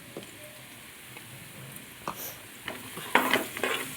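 Chili powder being stirred in a frying pan: soft sizzling with scraping stir strokes that grow louder and busier toward the end, close by with no talk.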